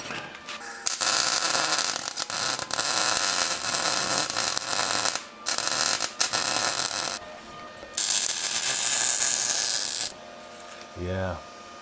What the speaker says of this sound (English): This small welder really puts the heat into it.